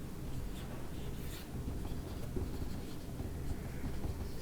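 A marker or chalk scratches steadily across a classroom board in a continuous, quiet stream of short strokes, with no voice over it.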